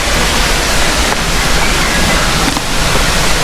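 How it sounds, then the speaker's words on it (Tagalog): Kamote Falls waterfall roaring in a steady, dense broadband rush of falling water, loud and continuous throughout with no break. "Yung falls eh. Narinig na nga."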